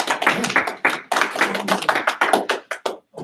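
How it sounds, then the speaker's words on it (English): Light applause from a small audience at a rugby referee meeting: a few seconds of irregular, close hand claps that thin out and stop. "Light applause."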